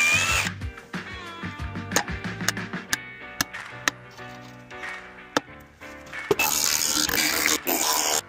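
Power drill driving fasteners to secure a sonotube concrete form onto a concrete pad, with repeated short whirring bursts and sharp taps, ending in a louder sustained drilling run.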